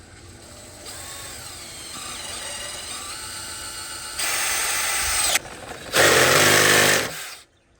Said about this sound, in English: we're going to drill a hole in it just like this.